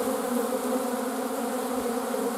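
Honey bees buzz steadily around a hive where a small ball of bees clusters and climbs over one another, a dense, even drone close by with no break.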